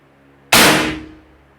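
A spring-piston air rifle fires one sharp, loud crack with a clanging metallic ring that decays over about half a second, close by and isolated, with no talking.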